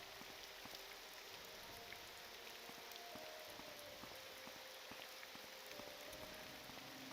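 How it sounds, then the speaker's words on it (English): Steady rain falls in the video game The Elder Scrolls III: Morrowind, a soft, continuous patter of drops on the ground along a southern coastline. It is faint and even, with no voices. "Got some rain going on."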